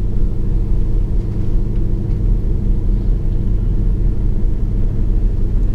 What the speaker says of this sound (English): There's some other cars passing there.